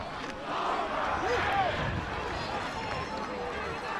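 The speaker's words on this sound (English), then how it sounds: "Crowd for Longmeadow chanting overrated." A Longmeadow football crowd at a final game chants "overrated" in a loud, rhythmic mass of voices heard from the stands, sustained across the moment with broad noisy cheering.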